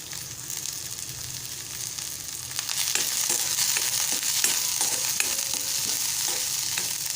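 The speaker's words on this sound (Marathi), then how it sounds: "तेल गरम झालेलं आहे आता आपण कांदा घालूया नंतर मिरच्या घालूया" Onion and green chillies hit hot oil in a pan, starting as a steady hiss that swells into louder, denser sizzling with crackles and occasional stirring clicks, close and continuous with no voices.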